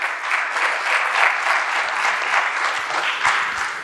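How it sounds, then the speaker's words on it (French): An audience at a business leadership event applauds to welcome a speaker, with dense, continuous clapping that stays at an even, fairly loud level throughout and has no voices over it. "Sous vos applaudissements, mesdames et messieurs."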